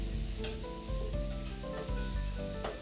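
Garlic sizzles in a pan over slow heat, a close, steady frying hiss with faint stirring scrapes and shifting tones underneath, with no talking.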